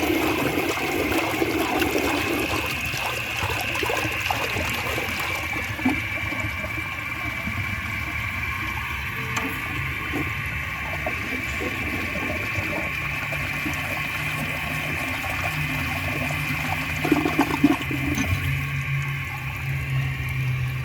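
A 1988 Kilgore Apex toilet flushing up close, a steady rushing swirl of water that holds for about twenty seconds and then settles into a trickling refill, with no talking.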